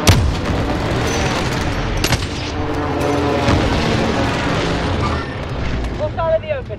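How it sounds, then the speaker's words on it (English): Airstrike explosions and gunfire in Call of Duty: Warzone Resurgence, a dense, loud barrage of booms and rapid shots rumbling together, with voices talking over it. "Allied precision airstrike incoming"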